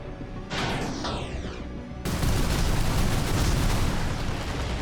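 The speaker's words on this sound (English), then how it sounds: "Has a lot of missiles coming out." Missiles launch in rapid bursts during an Armored Core VI mech battle, starting as a roaring whoosh that jumps into a loud, dense barrage of blasts and rumble after about two seconds.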